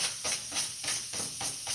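Diced onion and garlic sizzle in a hot pan, a steady close hiss that swells and fades in regular pulses with no talk.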